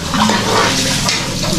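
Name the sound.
weak water flow from tap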